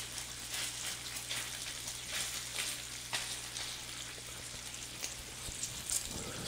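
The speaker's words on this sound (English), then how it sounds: "Really gotta have a good time cooking your bacon" Bacon frying in a pan, a dense, steady crackle and hiss like light rain, close and continuous with a few louder pops, no voices.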